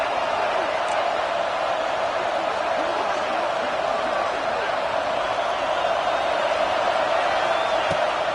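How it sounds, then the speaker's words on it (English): Stadium crowd at an LSU vs Alabama college football game roaring in a loud, continuous wall of noise during a fourth-down stand, steady and undiminished throughout. "This crowd busting the decibel meter and trying to will a 4th down stop."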